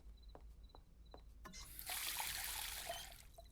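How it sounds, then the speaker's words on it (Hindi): In a Hindi children's cartoon, water is poured into a glass at night, a faint splashy stream starting after a few soft clicks and small knocks, running for about a second and a half, then tapering off. "मैं तुम्हारे लिए पानी लाती हूँ"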